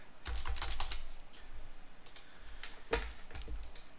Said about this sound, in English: So I double click and I'm going to type inside.